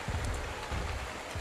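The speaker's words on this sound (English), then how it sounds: "And here's the rain." Steady rain pours down in the survival video game ARK, a dense, continuous patter of drops on surfaces with a low rumble underneath, close and fairly loud.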